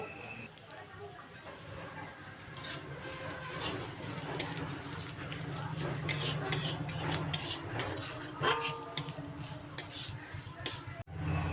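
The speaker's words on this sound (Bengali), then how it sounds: "আবারও নেড়ে চেড়ে দেব।" Spiced teasel gourd curry stirred in a pan, with scraping and clinking of a utensil against the metal pan, irregular and close, over a low background hum and occasional soft sizzling.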